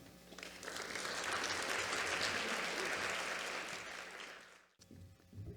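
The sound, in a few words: applause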